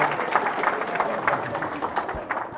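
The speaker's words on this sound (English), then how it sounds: "Yes, you can cheer for it." A live audience cheers and applauds at a comedy show, a dense, steady wash of clapping and crowd noise lasting a couple of seconds.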